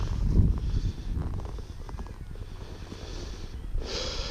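An Arabian stallion shifts under a rider mounting, with a loud close snort near the start followed by soft hoof steps and breathing, then another burst of air near the end.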